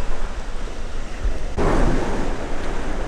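Stormy sea surf washes over a pebble beach at Kusadasi, Turkey, a loud, steady roar of churning water with wind buffeting the microphone, swelling louder midway through.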